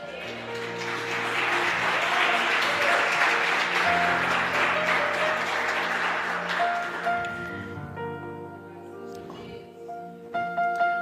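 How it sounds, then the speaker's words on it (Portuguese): A church congregation applauds during worship, with clapping swelling over sustained organ or keyboard chords, then thinning out as the music carries on with scattered claps near the end. "Eu aplaudi ao Senhor."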